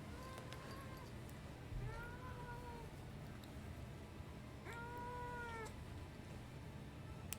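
A cat named Edna, nails freshly trimmed, lets out three loud, drawn-out meows close to the microphone, spaced a couple of seconds apart over a low room hum.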